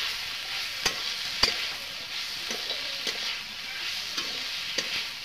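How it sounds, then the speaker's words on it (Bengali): Masala stirred and fried in a pan for mushroom potato curry, a soft continuous sizzle with occasional sharp clicks and scrapes of the spoon, with no talking. "আমি নাড়াচাড়া করে আমি ভাজে নিচ্ছি।"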